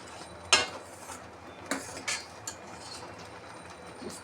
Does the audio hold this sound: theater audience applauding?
no